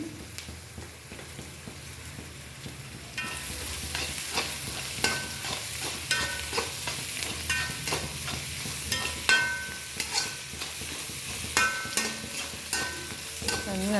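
Ginger sautéed in a pan, quiet at first, then a steady sizzle picks up with frequent scraping and tapping of a spatula as it is stirred, close and without any voices.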